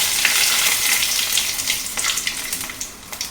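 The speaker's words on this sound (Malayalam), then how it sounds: "വറ്റൻമുളക് ഇടുക." Dried red chillies crackle and sizzle in hot oil as a tempering for a Kerala okra pachadi, steady and close with sharp spitting pops throughout.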